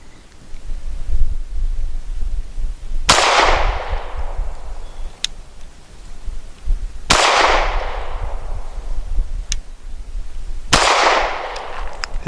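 Three loud, sharp pistol shots from a SAR B6C firing lacquered steel-case ammunition, spaced a few seconds apart outdoors, each trailing off in a long echo over steady wind noise.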